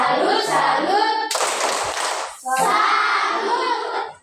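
Group voices chant in rhythm during the 'tepuk salut' clapping chant at a classroom ice-breaking session, breaking into a short burst of many hands clapping together for about a second before the chanting resumes.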